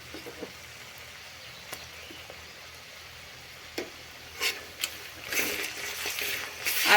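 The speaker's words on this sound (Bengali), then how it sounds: "আদা রসুনটা তেলে নাড়াচাড়া করে নিয়েছি।" Ginger garlic paste sizzles and fries in hot oil with lightly fried onions for chicken biryani, with a steady low crackle, scattered spoon scrapes while it is stirred, and a louder burst of frying toward the end.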